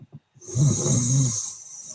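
One loud, close snore rasps through a long inhale after a couple of quick clicks, then trails off into a breathy hiss.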